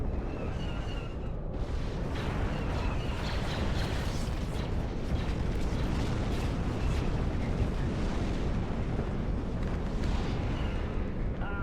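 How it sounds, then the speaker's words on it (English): A capital ship explodes in a Star Wars mod of the video game WARNO, a loud sustained roar of blasts and crackling bursts rumbling continuously for several seconds. "Massive explosion there"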